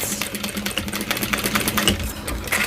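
A sewing machine stitches a curved seam on a Howie bowler bag, giving a close, continuous, rapid mechanical whir with a fine rattling texture throughout.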